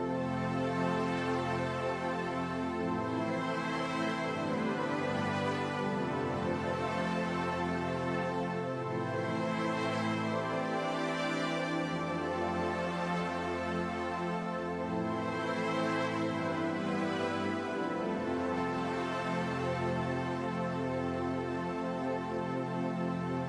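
Sustained keyboard chords play the bridge of a worship song, a steady, full pad-like harmony with a bass line underneath, moving through a chord sequence at even loudness with no talking.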